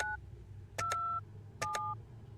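Phone number being dialed in the video game Penelope Pendrick & The Art of Deceit: a short tone, then two paired bursts of keypad beeps, each pair followed by a steady held tone, clear over a faint low background hum.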